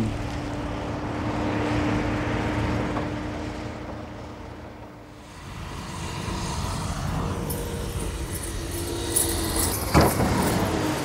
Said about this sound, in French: Et le chasse-neige reprend la place à l'avant.